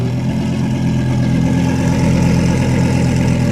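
A twin-turbo Lamborghini with a titanium exhaust idles loudly and steadily at close range, a deep, even engine rumble with no talking over it.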